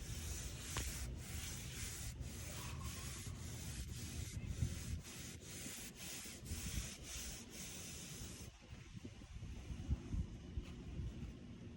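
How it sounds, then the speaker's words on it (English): Paper towels rub and press against wet Georgia red clay in repeated soft blotting strokes, a close, quiet scuffing rhythm with no talk. "use some paper towels to blot out that excess moisture"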